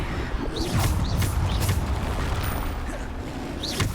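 Depulso, the force-push spell of Hogwarts Legacy: a few dull booming impacts and whooshing bursts over a constant rumble of battle effects, fairly loud, with no talk.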